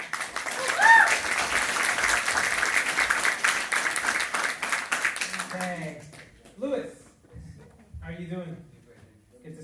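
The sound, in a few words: audience round of applause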